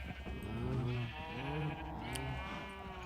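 Sheep in the Minecraft video game bleat repeatedly near the listener, several wavering calls in a row over a steady low background hum, with no talking.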